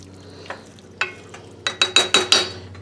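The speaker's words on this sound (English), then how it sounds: "I'm going to turn the heat to medium and stir this in together." Corn chowder being stirred in a pot over medium heat: a few sparse spoon scrapes, then a quick run of five or six rhythmic, loud scraping strokes close by, with no talking.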